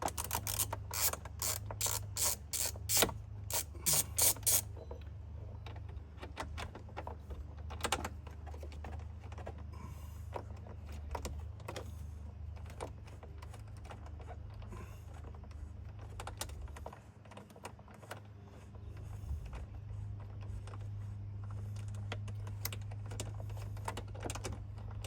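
Rapid ratchet clicking from a socket wrench on an extension backing out 10mm bolts on a 2019 Jeep Wrangler two-door Sport, with fast bursts at first and then steady ratcheting over a low hum.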